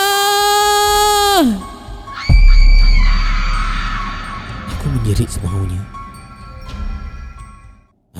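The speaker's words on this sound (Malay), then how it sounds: "Aku menjerit semaunya." A man screams at full voice in a dramatized horror story, a long strained cry that breaks off, then another loud yell, with low rumbling effects and a fading tail beneath.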